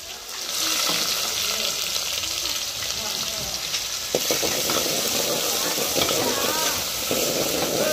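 Onion and green chilli paste for chicken curry fries in oil with a strong sizzle while a spatula stirs and scrapes at intervals. A voice can be heard faintly underneath.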